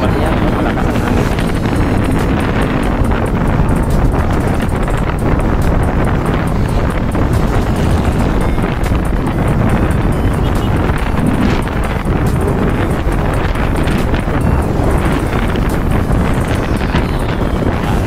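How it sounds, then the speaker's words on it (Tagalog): Strong wind buffeting a microphone outdoors during motorcycle riding, a loud constant rumbling roar that fills the whole stretch with no letup. "Malakas ang hangin."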